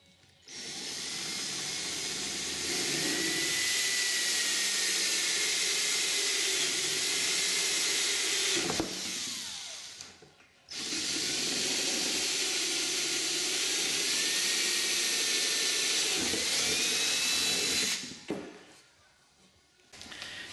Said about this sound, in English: We want to drill this out to 3/16 and then go on the other side and drill 3/16